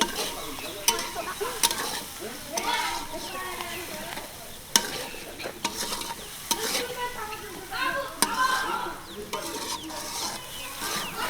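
Onions and chilies sizzle and crackle in hot oil while a utensil stirs and scrapes the pan in repeated strokes, close and moderately loud, with no talk.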